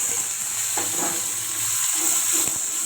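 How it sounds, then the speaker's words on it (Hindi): Spices frying in a pan for matar paneer give a steady close sizzle with faint stirring scrapes and no talk. "अब मैं सभी मसालों को देखो फ्राई करूँगी।"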